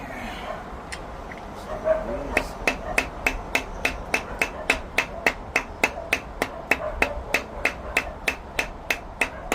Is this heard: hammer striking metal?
yes